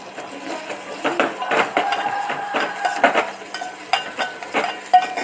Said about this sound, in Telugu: ఇవి కొద్దిగా డీప్ ఫ్రై కావాలి ఫ్రెండ్స్